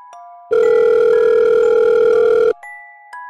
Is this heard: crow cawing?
no